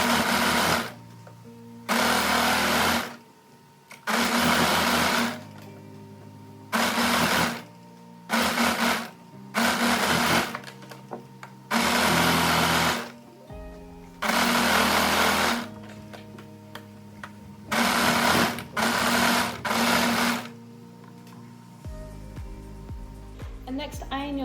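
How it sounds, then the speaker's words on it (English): An overlocker serging around the lower edge of a dress facing runs in repeated loud bursts of steady whirring, each a second or two long, separated by short pauses, with a voice talking between the runs. "we're also going to overlock around the lower edge of your facing"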